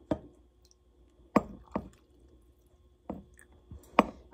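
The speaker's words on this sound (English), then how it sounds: "And then I'm just going to top that off with some additional water." Extra water is added to a jar of pickled daikon and carrots in a remote Alaskan cabin kitchen, with a handful of separate close drips and plops spaced across a few quiet seconds.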